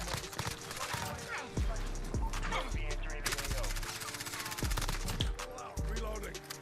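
Rapid automatic gunfire from an MP7 submachine gun in a Modern Warfare multiplayer match, dense bursts and repeated shots continuing throughout, with game voice callouts and a player talking over the shooting.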